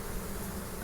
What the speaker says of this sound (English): look at where the bees are